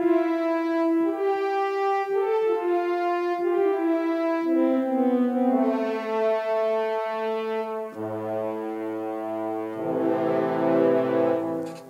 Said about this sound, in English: So what we've got, if I play the keyboard, it sounds like this.